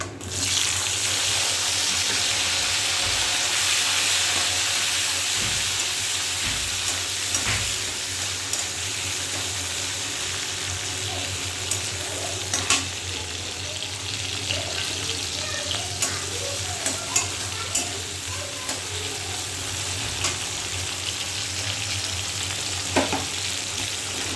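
Tomato and slit green chillies fry in a pan with a constant hissing sizzle, while sharp scraping stirs and clicks recur throughout; a brief faint voice is barely present.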